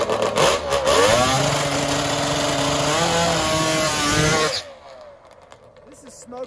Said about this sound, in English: you gotta see the 1975 Flannery engine, B&G chassis, new creation of Smokin Joe.